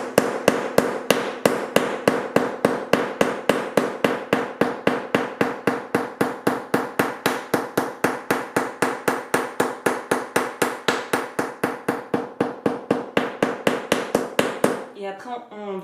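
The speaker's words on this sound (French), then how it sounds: "pour marteler, on prend le bourron, il va te falloir un marteau avec un bourron" Rapid, steady hammer blows with a punch texture a metal bracelet during handmade jewellery work, about four crisp metallic strikes per second continuing for roughly fifteen seconds before stopping, with no talk.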